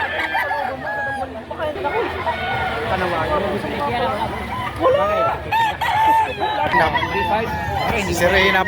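Chickens cluck and a rooster crows repeatedly at a poultry market in Padre Garcia, Batangas, with steady busy bird noise under nearby people talking throughout.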